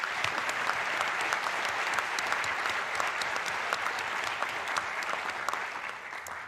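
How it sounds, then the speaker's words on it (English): A large audience at a university state-of-the-university address gives a steady round of applause. The dense clapping carries on alone and fades slightly toward the end. "Please join me in recognizing them with a round of applause."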